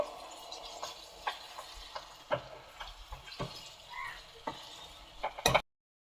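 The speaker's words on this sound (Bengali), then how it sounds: "আলুটাকে ওই মশলার সঙ্গে ভালো করে কষিয়ে নেব" Fried potatoes are stirred and sautéed with spices in a pan for a fish-head muri ghonto, a soft sizzle broken by irregular scraping spatula strokes, ending abruptly.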